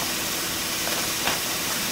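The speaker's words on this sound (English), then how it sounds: "So you can hear the sizzle." Ground pork crumbles browning in a skillet for pork chili give off a steady, close, even sizzle of hot fat, a continuous broadband hiss with a brief louder pop near the end.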